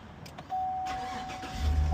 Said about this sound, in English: Start the car, wait 5 seconds.